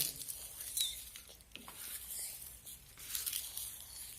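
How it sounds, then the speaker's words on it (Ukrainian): Dry leaves being crushed and crumbled by hand for a children's appliqué craft, a faint close crackling and rustling in irregular bursts. "І так, ми з вами зараз подрібнюємо листя."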